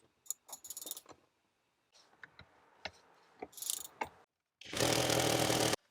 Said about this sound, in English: remove the bottom 4 bolts that hold the seats in place